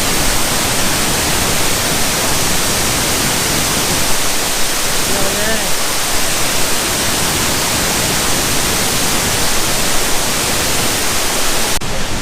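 Detian waterfall in China roaring up close, a dense, unbroken wash of falling water that stays loud and steady throughout, with a faint voice briefly audible beneath it.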